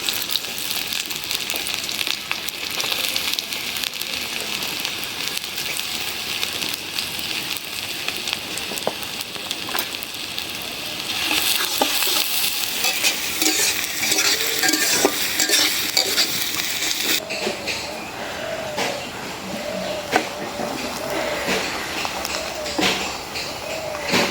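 Onion fries in pure mustard oil, with a constant crackling sizzle while a utensil stirs and scrapes the pan, close and steady for the whole stretch.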